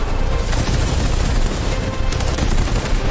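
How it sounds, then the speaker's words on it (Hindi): A loud, dense burst of gunfire crackles continuously, rapid shots overlapping like a fusillade, with no talking. "गोलियां चले यहाँ।"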